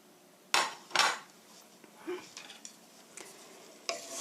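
Bread pieces are stirred and toasted in a dry frying pan, with a few sharp clinks and scrapes of a utensil against the pan amid quiet rustling.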